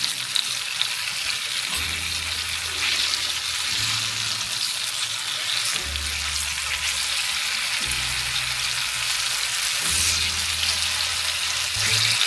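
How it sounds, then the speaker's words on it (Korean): Tofu pan-frying in oil sizzles steadily up close, with a crackling hiss throughout and no voices. A low, repeating background hum runs in short blocks under the sizzle. "이렇게 기름에 한번 붙여주면 두부가 부서지지 않고 쫀득하게 잘 졸여져요"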